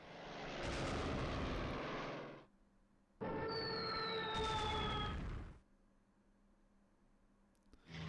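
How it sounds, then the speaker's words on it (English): Aircraft in the Strategic Command WWII strategy game give two loud bursts of roaring propeller-engine noise. One carries a falling whine, and quieter gaps separate the bursts. "Flying Tigers responding to the Japanese aircraft"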